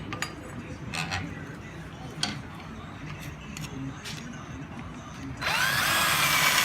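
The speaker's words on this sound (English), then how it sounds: "We're just slowly making the hole a little bigger so we get it up to 3/4 of an inch" A hole in a rebaler trailer being widened to 3/4 inch, with scattered clanks and short drill bursts before a steady, loud drill whine takes over near the end.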